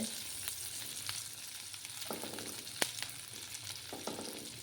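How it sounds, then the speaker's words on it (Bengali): Dry fish with potato and brinjal fry in a pan, giving a quiet, steady sizzle with occasional light crackles and stirring scrapes, heard alone without talking. "একটু ভালোভাবে ফ্রাই করে নিতে হবে।"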